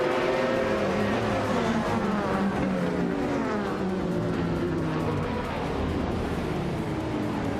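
Race cars, including a 2017 Onroak Nissan DPi in the LMP2 class, start a race at NOLA Motorsports Park with a loud, continuous layered engine roar, several engines revving and shifting pitch together throughout.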